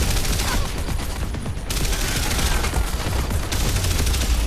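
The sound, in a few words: gunfire in video game Terminator Salvation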